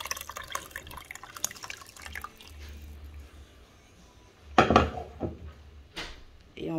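Beef pieces and their cooking juices tipped into a pot of peanut sauce for mafé, giving a few short splashy pours with drips and a clink of the pot, mostly quiet in between.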